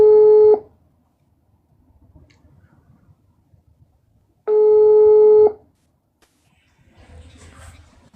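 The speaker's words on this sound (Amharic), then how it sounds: "እየጠራ ነው።" Two bursts of a phone ringback tone on an outgoing WhatsApp call, each a steady electronic tone lasting about half a second and then a full second, separated by quiet with faint background noise, and low murmuring afterward.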